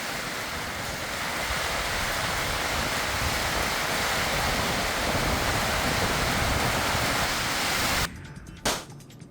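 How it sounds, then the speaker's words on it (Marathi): Heavy rain with stormy wind in Manchar, a dense, loud, continuous roar of downpour and gusts that breaks off abruptly near the end, no talking. "मंचरमध्ये वादळी वाऱ्यासह मुसळधार पावसाला सुरुवात झाली आहे"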